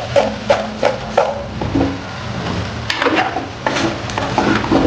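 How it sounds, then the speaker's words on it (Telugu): Cut pumpkin pieces tumble into a pan of cooked onions, a run of close wooden and metallic clatters and knocks with faint sizzling and stirring between them. "ఇప్పుడు ఇందులో మనం కట్ చేసి పెట్టుకున్న గుమ్మడికాయ ముక్కలు వేసేసుకుందాం"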